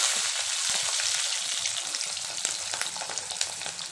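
Small shallots and garlic sauté in sesame oil for vathal kuzhambu, a loud, close, continuous sizzle with crackling pops and stirring scrapes, no voices over it.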